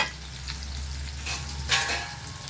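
Onion and masala paste fry in hot oil with a steady sizzle throughout, broken by a few brighter stirring scrapes near the end.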